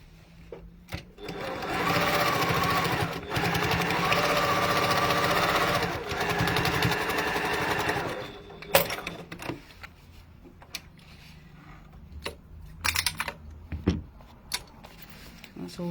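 A sewing machine stitches through several layers of fabric in a loud, fast, steady run lasting several seconds, then stops, leaving scattered clicks, fabric handling and light movement sounds.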